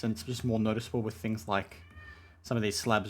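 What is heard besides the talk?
cat meowing in the background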